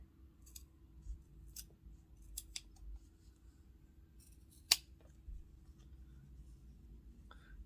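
Scissors trimming military uniform fabric, a series of sharp snips and cuts spaced irregularly over faint room noise, close with one louder clip near the middle.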